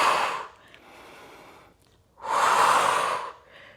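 Two strong breaths, a long audible exhale near the start and another after a quieter pause, from a person during a Pilates exercise, close and alone with no talk.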